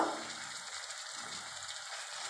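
Green chillies and garlic paste fry in hot oil in a pan, giving a steady, close hiss of sizzling throughout, with no talking.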